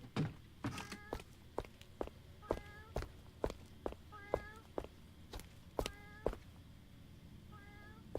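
A cat meows repeatedly in the Van Helsing video game, five or six short, clear mewing calls spaced a second or two apart, mixed with soft thuds and footstep-like knocks at a moderate distance.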